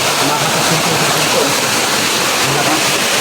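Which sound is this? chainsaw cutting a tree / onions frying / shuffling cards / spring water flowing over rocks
spring water flowing over rocks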